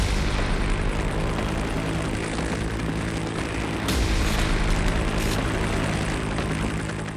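An MH-60R Romeo naval helicopter on the aircraft carrier INS Vikrant produces loud, continuous rotor and engine roar. The sound stays steady and close, with a brief surge midway.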